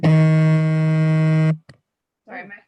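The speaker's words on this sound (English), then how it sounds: "my phone's ringing" A loud, harsh electronic buzz, likely a phone ringing, holds steady for about a second and a half and then stops abruptly, followed by a brief click and a short burst of a voice.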